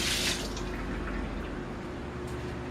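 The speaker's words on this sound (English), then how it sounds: "now you take a link, you run it under cold water" Cold tap water runs steadily over a frozen Italian sausage link, a constant soft splashing stream with no talk.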